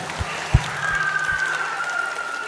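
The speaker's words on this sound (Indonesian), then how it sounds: "Tepuk tangan untuk kita semua." Applause fills a Catholic thanksgiving mass marking a kindergarten's 50th anniversary, a steady, moderately loud patter of many hands clapping over the whole stretch, with a faint hum in the room.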